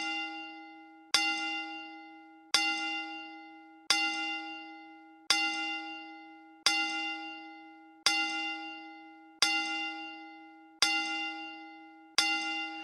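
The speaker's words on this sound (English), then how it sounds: "We'll just ring the bell 10 times." A single bell struck ten times at an even, unhurried pace as a bell salute at a wrestling show, each clear ringing strike decaying before the next, alone without voices.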